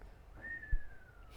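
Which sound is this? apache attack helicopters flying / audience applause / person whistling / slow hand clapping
person whistling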